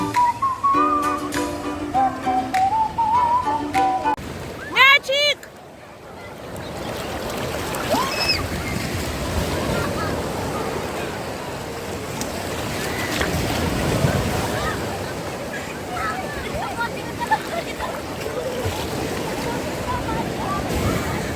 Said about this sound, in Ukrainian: такі хвилі, і подивіться, скільки людей на хвилях. Боже, які хвилі.